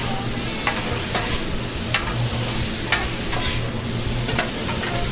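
Food sizzling loudly on a smoking-hot grill at a taco festival, seasoned with salt, pepper and fish sauce, with a dense steady hiss and regular spatula scrapes about once a second as it is mixed.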